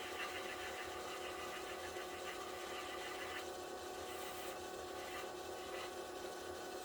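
Sandpaper rubbing the sharp corners off a wooden slimline pen spinning on a lathe, a steady close rasp over a continuous motor hum with no voices.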